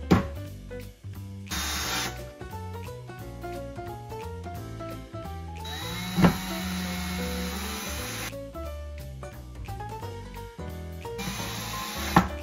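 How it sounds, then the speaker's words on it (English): A power drill whirs in repeated short bursts, pausing and restarting as it pre-drills through screw holes clogged with built-up paint, the motor pitch sagging under load. "I'm drilling these through to the other side because there is paint that is kind of built up in these holes"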